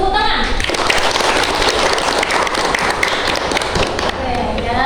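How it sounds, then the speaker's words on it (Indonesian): Sustained, dense applause from a group clapping together, loud and continuous for several seconds without pause. "bantu tepuk tangan"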